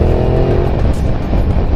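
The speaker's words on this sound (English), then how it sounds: "I'm hoping you can hear the exhaust." A Ducati Multistrada 1200 DVT motorcycle with its stock exhaust drones loudly and continuously while riding, the engine note steady and close, mixed with rushing wind.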